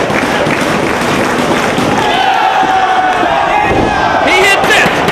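A wrestling crowd in a Philadelphia arena roars steadily and loudly, a dense wall of cheering and shouting that swells slightly near the end.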